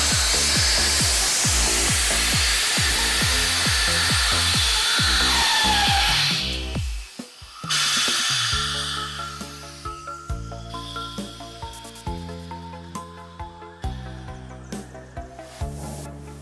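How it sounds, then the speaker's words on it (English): CO2 gas rushing out through the unloading valve of a Suncenter 4-station CO2 filling machine, a steady loud hiss that cuts off partway, followed by quieter intermittent hissing bursts and mechanical clicks. "we open this unloading valve to let the CO2 inside the machine all released"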